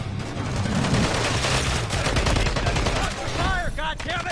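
Rapid bursts of automatic gunfire crackle loudly and continuously in a first-person shooter video game, with rattling shots layered over one another during a firefight around a hardpoint.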